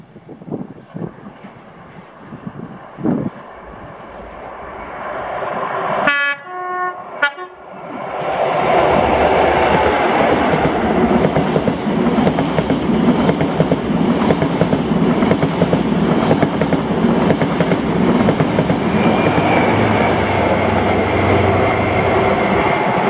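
An LNER passenger service bound for Inverness passes at Blair Atholl, with two sharp horn blasts followed by a loud, sustained roar and rhythmic wheel clatter as the carriages run by close.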